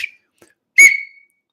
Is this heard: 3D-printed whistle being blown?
yes